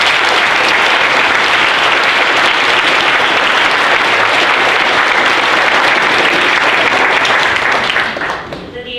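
A crowd gives loud, sustained applause at a Class of 2019 senior brunch, with dense clapping holding steady for about eight seconds before it quickly thins and fades at the end.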